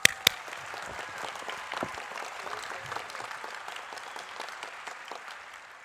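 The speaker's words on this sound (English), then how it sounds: "Let's give them a round of applause." Sustained applause from a commencement ceremony audience, dense steady clapping throughout with a couple of sharp close claps at the start, filling the hall evenly.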